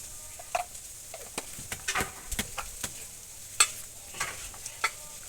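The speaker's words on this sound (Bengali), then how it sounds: "এবার খুব ভালো করে সব কিছু মাখিয়ে নিচ্ছি" Raw chicken kebab mixture with spices and a little chili powder being worked by hand in a bowl, giving soft, irregular wet squelches and clicks, close and fairly quiet, with no talking.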